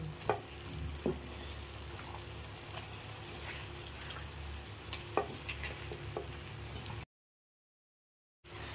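Close-up sizzling and crackling of chicken frying in a pan, with occasional stirring clatters, steady throughout before a brief silent gap near the end.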